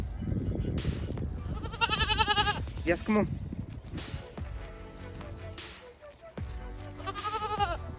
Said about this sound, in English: We're going to start today's video off by feeding the goats.